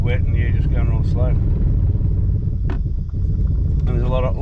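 A 4WD car creeps slowly down a steep, wet slope with heavy braking, its low engine rumble droning steadily and close while people talk over it.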